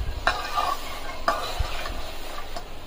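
Salt being stirred into garlic poha chivda in a small kadhai, with a few distinct scraping strokes of a spoon against the pan over a soft, steady sizzle.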